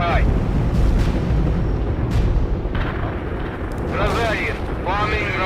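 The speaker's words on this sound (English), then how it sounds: "bombing run completed." Bombing run explosions in the video game World in Conflict, a continuous heavy rumble of blasts and booms, loud and close, with radio chatter in the game layered over them.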